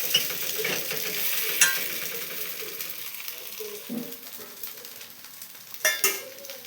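Ponganalu batter snacks frying in a pan give off a steady, close sizzling hiss, with a few soft clinks and stirring scrapes now and then.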